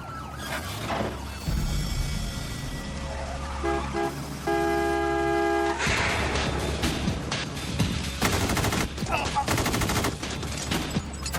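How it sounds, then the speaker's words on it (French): Gunfire in a film scene, fired through a car windshield at a fleeing driver, with sharp, loud bursts in the second half over a steady wailing siren and a busy background. "Il vient de tirer à travers son pare-brise sur un chauffeur qui s'enfuit en courant."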